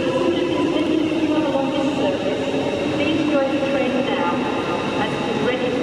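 An LNER Azuma Class 800 train, unit 800109, pulls out of London King's Cross bound for Harrogate, giving a steady, loud rumble and hum of traction and wheels from nearby. The sound stays even throughout, with people talking over it.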